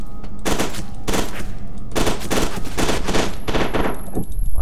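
Rapid automatic gunfire bursts in the shooter game Fear 2, loud and close, coming in several repeated volleys with short gaps between them.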